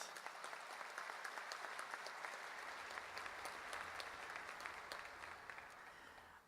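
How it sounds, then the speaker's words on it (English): Sustained audience applause at a gubernatorial inauguration in Hawaii, a broad even wash of many hands clapping, fairly faint and distant, tapering off at the close. "Let's give them a round of applause."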